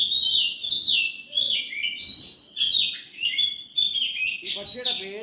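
A drongo, a black bird with a forked tail, sings from a tree in a string of bright, clear chirps and whistled phrases, loud and close, repeating in quick bursts with brief gaps and no talking.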